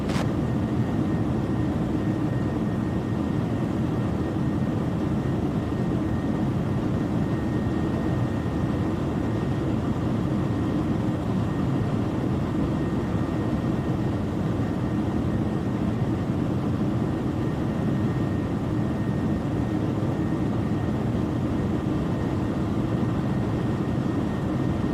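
Steady, broadband roar of an Air Canada Airbus A320 in flight, heard as a constant loud cabin drone with a faint tonal hum, unbroken and with no voices.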